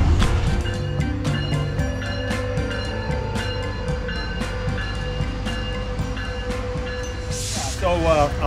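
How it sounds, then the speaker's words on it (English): A passenger train rumbles steadily close by at a California campground, with rhythmic clacking over the rails and a brief hiss near the end; voices talk over it. "And so here's the train right here."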